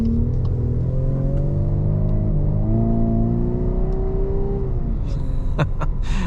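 Inside a 2025 VW Atlas Cross Sport R-Line on a test drive, piped-in engine sound hums steadily with a rising and falling tonal drone as the vehicle accelerates, over constant road rumble, with no talking.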